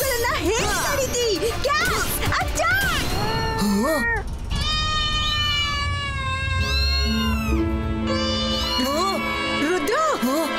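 Many cats meow together in a cartoon scene, with high, drawn-out and overlapping cries at close range over a loud, busy background, while a voice talks at the start.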